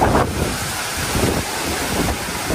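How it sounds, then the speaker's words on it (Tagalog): Heavy rain pours down outdoors during a flood rescue, a loud continuous rushing roar mixed with buffeting wind noise on the microphone, with no voices heard. "lakas ng ulan"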